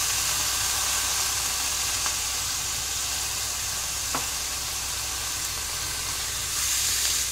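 Young jackfruit pieces sizzle in a hot pan during cooking, a steady dense hiss throughout with a couple of faint clicks, close and continuous.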